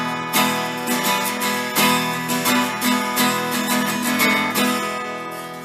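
Beat-up Epiphone plywood acoustic guitar fitted with a ToneBar and thin electric strings, strummed chords ringing out brightly and close with long sustain, a few strong strokes over about six seconds, no talking.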